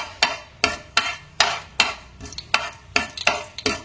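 Fenugreek seeds being stirred in hot oil for a taro root stew, a rapid series of nine or ten crisp scraping strokes of a spoon against the pan over a faint sizzle.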